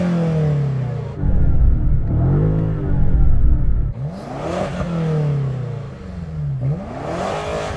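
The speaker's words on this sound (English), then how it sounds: "Rev up your car." A car engine revs up repeatedly near a car wash, climbing and falling in pitch several times. It bounces against a soft rev limiter in loud, close bursts.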